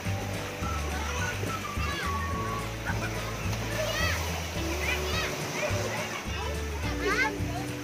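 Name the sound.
children swimming and splashing in a swimming pool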